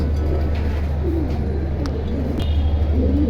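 Pigeons at a bustling pigeon market give soft, low cooing phrases, moderately close, over a steady low rumble of crowd and traffic noise, with a couple of brief sharper sounds.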